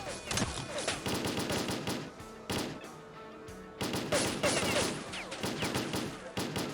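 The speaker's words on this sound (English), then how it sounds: "This is a very accurate gun, though, for it being fully automatic." Fully automatic gun firing in STALKER: Call of Pripyat, long rapid bursts of close, loud shots with a brief pause midway before the firing resumes.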